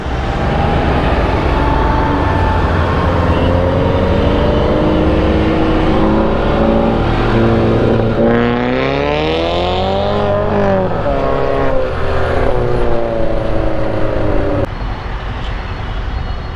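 A tuned-up motorbike's engine drones loud and close with steady harmonic tones, rising and falling through a couple of throttle swells in the middle before settling back to a steady drone, with no clear talking.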